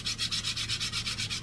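Sandpaper rubs a small Dollar Tree piece in quick, even back-and-forth strokes, about eight soft scratchy passes in a steady rhythm, fairly quiet and close, with no voices.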